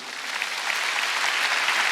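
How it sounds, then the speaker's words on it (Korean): Church congregation applauding during a Sunday worship service, a dense crowd of clapping that swells slightly and holds steady for a couple of seconds, loud and close. "박수 세게 치라고."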